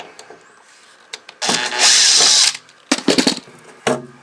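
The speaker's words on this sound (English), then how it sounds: "This is why we need to drill here." A power drill whirs in a loud sustained burst of about a second, drilling into a fifth-wheel trailer near its hot water tank, followed by several shorter clattering mechanical bursts close by.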